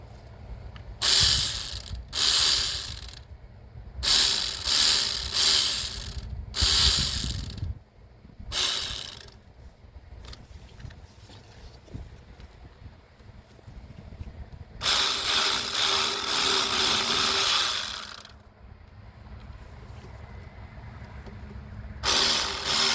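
Repeated ratchet clicking while tightening a fitting on the engine of a 2008 Citroën Nemo van. Several short bursts of fast clicks come close and loud, with a longer run of ratcheting later and brief pauses between strokes.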